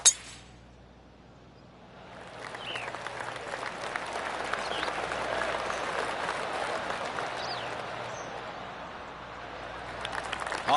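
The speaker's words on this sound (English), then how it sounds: "I can hear the golf claps around the course." Golf crowd applause in the PGA Tour 2K25 video game rises after a quiet start and holds as a sustained patter of distant clapping around the course, with faint clinks and a sharp click at the start.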